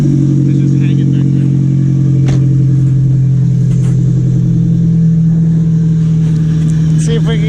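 A Nissan Sentra SE-R Spec V with a disabled clutch switch climbing a steep driveway, its engine droning steadily and loudly up close with a few sharp knocks, while people talk throughout.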